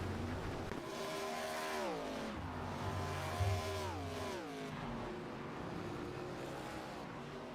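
A race car engine in iRacing at Road Atlanta restarting after a spin, revving up and down in several rising and falling sweeps, fairly faint and distant.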